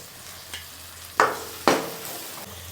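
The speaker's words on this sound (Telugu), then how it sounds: "ఇప్పుడు ఆనియన్స్ సారీ టమాటాలు వేసుకుందాం" Tomatoes go into a pan for chicken curry, bringing a low frying hiss and a few sharp stirring scrapes and clacks of a spoon against the pan.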